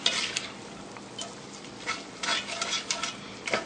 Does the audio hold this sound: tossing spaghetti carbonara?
yes